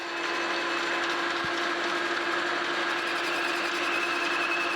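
Monarch 10EE lathe turning threads off a thin metal alignment pin, a steady broadband cutting whir with a constant tonal hum and one brief click, close and continuous with no talk.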